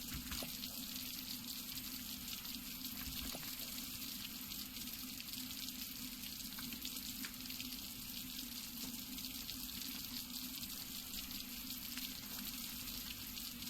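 Steady rushing water rising in the video game Eternal Enemies, a continuous loud hiss and gush that fills the whole stretch without pause, with no voices over it.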